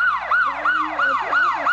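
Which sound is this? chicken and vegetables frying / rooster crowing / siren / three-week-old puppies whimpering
siren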